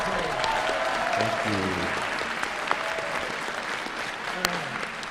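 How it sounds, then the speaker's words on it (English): An audience bursts into sustained applause and cheering at a live reaction event, many hands clapping densely for several seconds while someone says a brief thanks over it. "Big round of applause."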